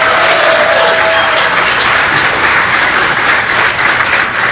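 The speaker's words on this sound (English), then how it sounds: "can we get a big applause for Peter Mayhew?" A large convention panel crowd at Megacon 2018 bursts into loud, dense, sustained applause for Peter Mayhew, filling the hall with a continuous wash of clapping and no talk.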